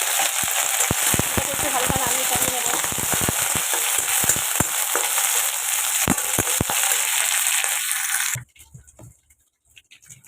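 Curry leaves and green chilies hit hot oil for a dhokla tempering, giving a loud, steady sizzle with sharp crackling pops that stops abruptly near the end, leaving quiet.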